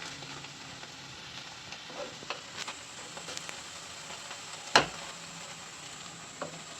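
Amaranth greens (arai keerai) cooking in a pan give a soft, steady sizzle with occasional sharp clicks and pops, faint and close, with no talking.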